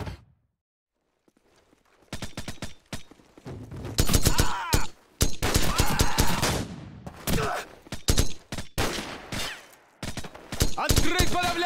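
Gunfire in Call of Duty Modern Warfare, mission "Ultimatum": after a brief silence, bursts of rapid automatic fire and single loud shots crackle close by in dense clusters, with short gaps between volleys and some game voices mixed in.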